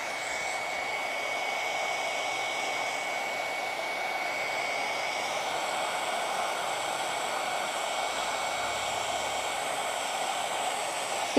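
Heat gun blowing on wet paint for a witch's cauldron craft, a steady, even whooshing hum of hot air that runs unbroken and fairly close throughout.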